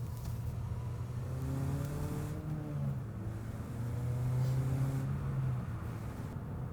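A 2019 Mazda3 Sport GT with a six-speed manual revs steadily, its mid-pitched engine note rising and falling in two long swells, fairly close and continuous with no talking.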